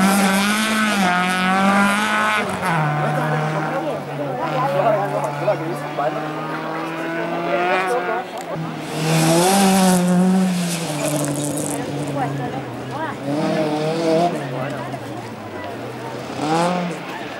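A Volvo 44 race car climbs a hill at a hill-climb event at Vikersund. The engine drones and rises in pitch as it accelerates through the gears, heard under a continuous announcer's voice.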